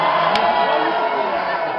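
Large concert audience at a show in Luxembourg roaring and cheering, a dense, loud, sustained wash of crowd noise filling the space, with scattered whoops and voices over it.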